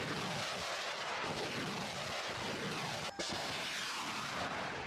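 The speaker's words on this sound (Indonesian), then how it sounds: "Sejumlah roket ditembakkan dari kendaraan peluncur milik TNI Angkatan Darat" Rockets fired from Indonesian Army launcher vehicles during a multinational heavy-weapons exercise at a training ground in Baturaja, Ogan Komering Ulu: a loud, sustained, rumbling roar with a brief sharp break partway through, and no voices.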